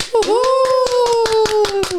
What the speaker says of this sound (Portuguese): Palmas para todas nós.